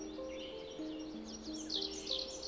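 A bird in the point-and-click adventure game Gobliiins chirps in quick, high twittering calls over a soft tonal background melody, faint and alone with no talk.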